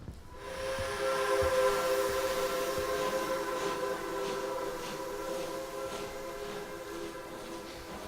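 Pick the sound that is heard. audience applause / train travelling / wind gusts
train travelling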